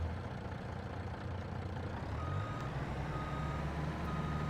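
A truck in a farming video game reversing, its steady engine rumble running under a continuous string of reversing beeps, fairly close and unbroken throughout with no talk.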